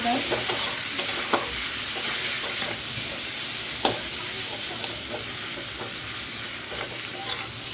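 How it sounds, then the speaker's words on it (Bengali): Spiced masala with cumin and turmeric powder frying steadily in a pan, a continuous close sizzle broken by occasional scraping taps of stirring, with no voices. "হলুদ গুঁড়ো, মশলাটা বেশিক্ষণ কষিয়ে নেবো।"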